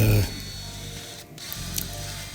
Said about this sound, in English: sunk some screws in the back to attach it